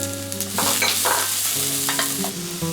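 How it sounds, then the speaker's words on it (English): Beef and vegetables (onion, pepper, spring onion) sizzle and crackle in a pan on very high heat while a utensil stirs and scrapes through them, with a steady low hum underneath. "Continue the cooking on a very high heat. Put the vegetables, the onion, the pepper, and the spring onion."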